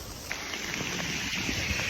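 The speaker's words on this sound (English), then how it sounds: "And it's not even windy, just a lot of rain." Heavy, steady rain falling outdoors during Hurricane Milton, with little wind, forming a continuous dense hiss with scattered drop impacts, close and unbroken.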